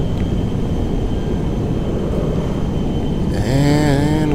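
A steady, loud roar of the Air Force One jet taking off in the video game GTA 5, continuous throughout, with a rising whine of engine tones joining in the final second.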